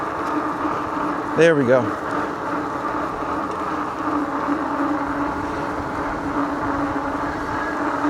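A Tracer Loiter Cruiser e-bike rides along on pedal assist, giving a steady droning hum of motor, wind and road with a brief rattle near the start, while the rider speaks briefly.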